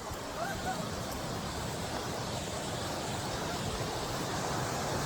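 Continuous loud rushing of river water, a dense even roar with no pauses.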